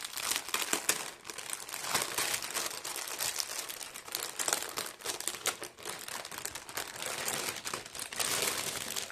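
Large transparent plastic storage sleeves for 30x30 scrapbooking paper crinkle and rustle continuously as they are handled up close, with steady crackling and crumpling throughout and no voices.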